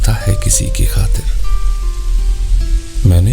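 Steady rain hisses as a background effect at a railway station in a Hindi audio story, running continuously under a narrator's close voice.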